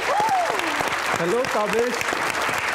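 An audience at a television interview show claps steadily throughout, while a voice speaks over the applause.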